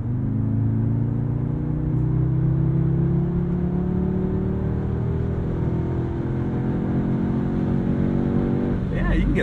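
A 2022 Audi S3 in sport mode accelerates steadily from inside the cabin, the engine tone rising smoothly through the gear for several seconds as a continuous, moderately loud drone with voices faintly present.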